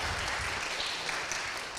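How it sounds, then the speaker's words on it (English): Audience applause at a folk music concert, a dense sustained burst of clapping from a crowd filling the whole moment, loud and close with no voices over it. "Can we give them another hand?"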